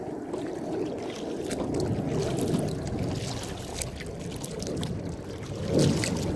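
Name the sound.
waves hitting a kayak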